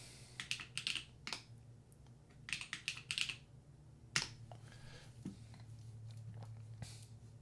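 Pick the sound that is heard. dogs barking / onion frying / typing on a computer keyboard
typing on a computer keyboard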